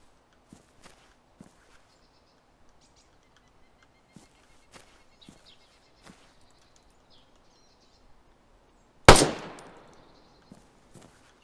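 Gunfire in the DayZ video game: a single loud, sharp shot with a decaying tail stands out near the end, preceded by scattered faint clicks and soft footsteps in otherwise quiet surroundings.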